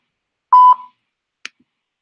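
Voicemail recording tone: a single short, loud electronic beep, followed a moment later by a faint brief click in otherwise silent surroundings.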